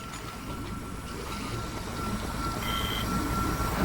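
A spaceship engine hums steadily through its ascent in the VR game Expect You to Die, a low continuous rumble with a faint high tone above it that grows slightly louder toward the end, with no voices.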